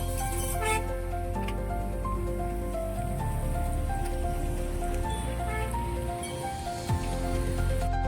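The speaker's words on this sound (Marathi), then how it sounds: "तर किती जोरात पाऊस पडतोय बघा" Heavy rain pours down during a wait at a bus stop, a dense steady patter and splashing close by, with tonal background music running underneath the downpour.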